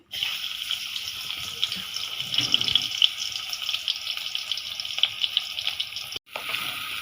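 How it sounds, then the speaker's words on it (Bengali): Chopped garlic fries in hot oil for a papaya lentil dish, a continuous close sizzle and crackle with faint stirring, briefly cut near the end, no talking. "তেলটা গরম হয়ে গেছে এখন রসুন কুচি দিয়ে দিই"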